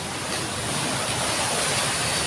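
Rough sea waves with strong surf, a dense continuous rushing wash close by, loud and steady with no talking.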